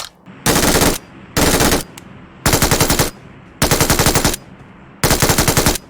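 Bursts of automatic rifle fire in the mobile battle royale game PUBG Mobile, five loud sustained volleys of roughly a second each separated by short pauses, close and dominant with no talking.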